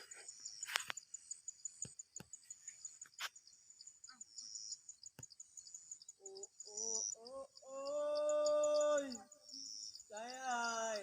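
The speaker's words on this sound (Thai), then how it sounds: "พอได้ยินแต่เสียงไก่ขันนี่" A rooster crows faintly somewhere in the countryside, with a couple of drawn-out, wavering calls near the end. Before them come soft insect chirps and sparse clicks in a quiet rural setting.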